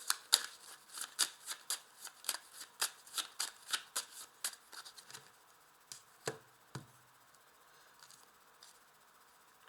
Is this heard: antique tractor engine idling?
no